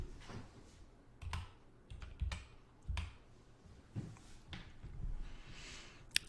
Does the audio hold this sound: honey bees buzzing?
no